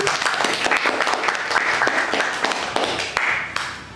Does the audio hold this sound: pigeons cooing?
no